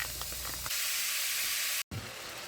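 Aldi brand sausage sizzling in a pan for biscuits and gravy, a steady broadband hiss that grows louder and brighter partway through, with a brief dropout near the end.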